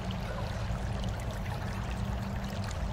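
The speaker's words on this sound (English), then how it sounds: "bigger waterfall, bigger things of water, faster moving water through the river areas" Steady, dense rushing of a waterfall and fast-flowing river water in the D&D Forge of Fury video game, a continuous even wash with no breaks, fairly close and moderately loud.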